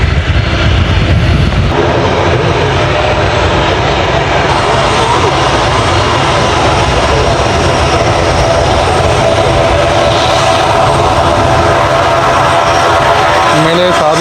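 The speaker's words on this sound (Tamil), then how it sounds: "விமானம் வந்து இப்போ தரையிறங்கிட்டுது பாருங்க இண்டிகோ" An IndiGo passenger airplane lands at Palali airport, producing a loud, sustained roar of jet engines that fills the whole stretch, with crowd noise and talk mixed beneath it.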